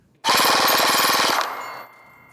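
A rapid burst of airsoft machine gun fire shooting plastic pellets, dozens of sharp shots in a fast steady rhythm lasting about a second, loud and close, then a fading mechanical whir.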